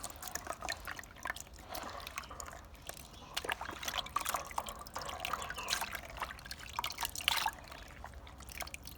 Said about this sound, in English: take it out and rinse it with clean water